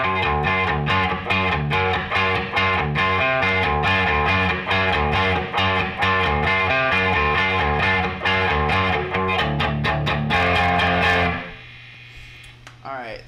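Distorted electric guitar plays a riff, a repeating chugging figure with an effects-laden tone, loud and steady, ending with a sustained ringing chord that fades.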